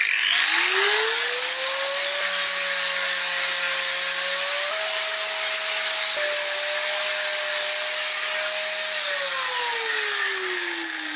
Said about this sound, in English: we're going to begin the delicate process of carefully removing the metal